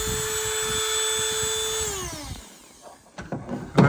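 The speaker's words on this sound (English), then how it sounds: "we're going to do a test of the inverter, and we're going to do it on a Dremel." A Dremel rotary tool whines at a steady high pitch while powered through an inverter from a lithium battery, then spins down as it shuts off, followed by faint clicks and handling noise.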